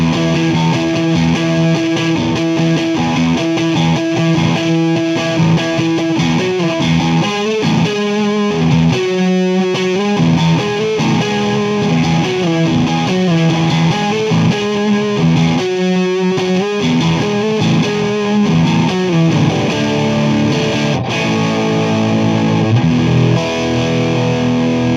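A Billy Corgan signature Reverend electric guitar plays loud, distorted, sustained chords and riffs with the selector in the middle position, using both pickups together. Effects colour the tone, and no one speaks.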